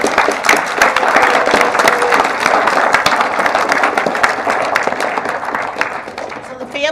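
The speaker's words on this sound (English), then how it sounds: "So let's give them one more round of applause." An audience at a New Milford Public Schools board of education meeting applauds: loud, dense clapping runs steadily for about seven seconds, with voices mixed in.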